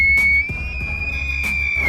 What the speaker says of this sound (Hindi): हैरिसस हॉक, इसकी आवाज तो कुछ ऐसी है जैसे कोई लड़की चिल्लाने का नाटक कर रही हो।